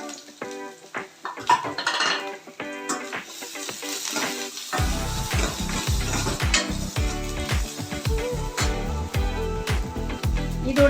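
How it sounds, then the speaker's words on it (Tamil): Chopped onion dropped into hot oil for pearl millet noodles, with spoon clinks and pan clatter first, then a busy crackling sizzle and repeated metallic stirring scrapes, close up and without talk. "இந்த ஆயிலில் கட் பண்ண ஆனியன் ஆட் பண்ணுறேன்"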